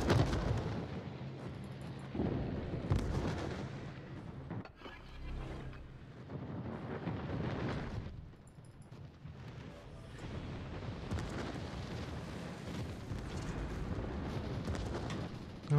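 Ships trade weapons fire in a space battle game, with torpedoes in play. Repeated booms and blasts arrive in irregular bursts over a dense, rumbling background, at a low overall level.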